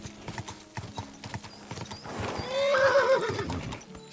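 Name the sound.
horse hooves and neighing, video game Kingdom Come Deliverance 2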